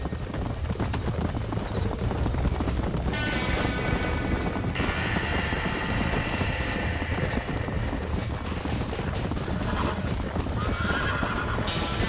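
Horses neighing and whinnying in panic inside a burning barn in Red Dead Redemption, with hooves clip-clopping throughout, several loud shrill whinnies rising over a dense roar of fire and commotion.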